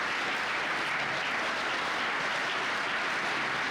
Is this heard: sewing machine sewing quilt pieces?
no